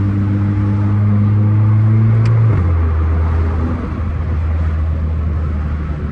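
Volkswagen Golf 7 GTI exhaust with a valve flap, a loud steady idle-to-low rumble with a deep tonal drone that shifts pitch partway through, close and continuous without speech.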